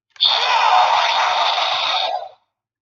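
A DX Ultraman Ribut Guts Hyper Key toy plays a bright electronic sound effect, a single loud synthetic burst lasting about two seconds before cutting off into silence.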